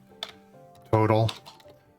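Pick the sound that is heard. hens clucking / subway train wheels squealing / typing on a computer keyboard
typing on a computer keyboard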